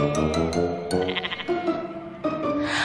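Goats bleat as a story sound effect, a series of loud, close, wavering bleats that overlap and repeat for a few seconds, without any speech.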